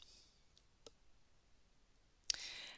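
A computer mouse clicking a Save button in a Notion template: a few faint isolated clicks, then one sharper click near the end, quiet and close with no voice.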